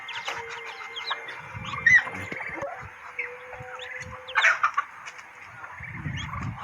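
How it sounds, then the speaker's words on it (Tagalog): Newly hatched ducklings about three days old, kept with goats in a backyard, peep and chirp in scattered bursts, with a few louder calls standing out against steady farmyard background noise. "Ito nga pala yung napisa sa ating mga pato mga kabagyard."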